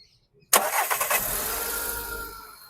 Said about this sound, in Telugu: ఇంజన్ అయితే చాలా అంటే చాలా నీట్గా ఉంది సార్, పర్ఫెక్ట్ ఉంది, చాలా స్మూత్ ఉంది.